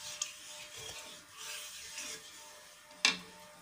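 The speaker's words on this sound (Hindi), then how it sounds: "बस इसे चलाते हुए पकाते रहना है।" A spoon scrapes and stirs thick rice batter in a pan on a gas stove over medium flame, giving quiet, irregular rubbing strokes with one sharper clink near the end.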